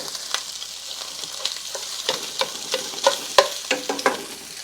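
Italian sausage sizzles and spatters in a pan, a steady frying hiss punctuated by stirring clinks and scrapes of a utensil against the pan.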